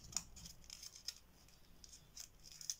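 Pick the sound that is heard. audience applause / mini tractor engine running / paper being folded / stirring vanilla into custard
paper being folded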